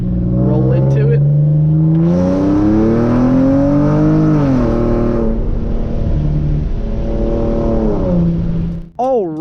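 A Hyundai Genesis Coupe revs up hard through second gear, its exhaust note climbing and falling in pitch with a sharp crack near the end; a voice talks over the engine.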